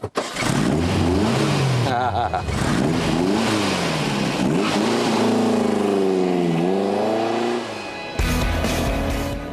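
A vintage Volkswagen Rallye Beetle engine revs repeatedly while driving, rising and falling in pitch across several throttle sweeps, loud and close, with a voice talking over it before it briefly cuts out and returns.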